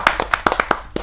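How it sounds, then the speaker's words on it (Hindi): A few people clap in welcome for a poet at a poetry gathering, giving a short run of sharp, separate hand claps close by, uneven in rhythm and over within about a second. "आप तालियों से स्वागत कीजिए सुरेश धनोरा जी"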